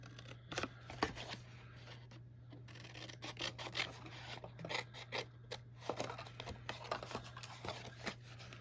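Scissors cut a paper pattern for a Christmas tree treat box in a run of close, quiet snips and rustles. The snips are irregular and are heard over a low steady background hum.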